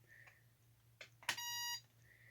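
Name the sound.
drone remote controller startup beeps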